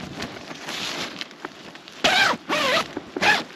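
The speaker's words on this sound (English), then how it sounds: "This zipper is getting stuck." A wet REI Co-Op Quarter Dome SL 1 tent zipper sticks on the flap, tugged in three short, rasping bursts with pauses between, close up, over a soft background patter like light rain.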